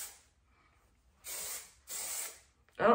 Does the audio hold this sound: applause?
no